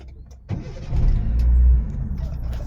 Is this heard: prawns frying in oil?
no